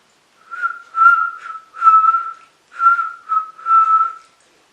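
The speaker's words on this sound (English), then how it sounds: "Can you whistle?" A person whistles a short tune alone, six or so clear, close, fairly loud phrases with brief pauses between them, no talking.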